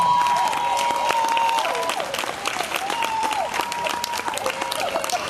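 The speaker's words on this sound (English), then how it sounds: "I need y'all to start clapping." Sustained applause from a live poetry event audience fills the room steadily, dense and continuous, with a few whoops and a host's voice faintly over it.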